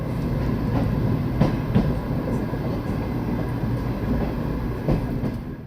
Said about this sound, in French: Nous croisons plus tard un train de nuit pour Helsinki dans une petite gare.